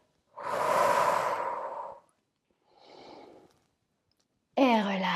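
Two slow, audible breaths during a warm-up exercise, a long exhale then a softer inhale, breathy and close, followed by a brief burst of voice at the end.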